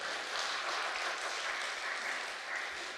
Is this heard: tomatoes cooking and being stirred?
no